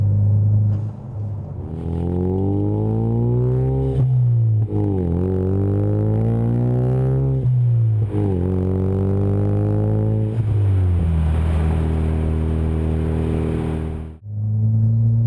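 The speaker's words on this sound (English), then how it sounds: "Going through the gears, it has a great sound. I mean, you can really hear the turbo through the exhaust system." A 2015-2023 Ford Mustang Fastback EcoBoost with an MBRP Race 3-inch cat-back exhaust accelerates hard through several gears, its loud, droning engine note climbing steadily in pitch and dropping briefly at each shift.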